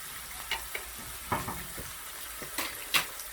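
Ground beef browning in a pan for a Spanish rice casserole, giving a steady close sizzle broken by scattered scrapes and light clinks of a utensil, with no talking.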